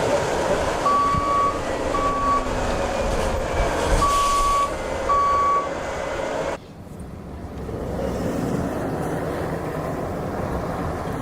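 A truck stuck in snow sits under a loud, rumbling engine while reversing beeps sound in two pairs of evenly spaced tones, then the beeping stops and the engine noise drops abruptly.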